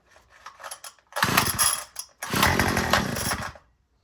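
A cold two-stroke string trimmer engine sputters through two long loud bursts of running with a quieter rumbling pull before them, then dies out to silence.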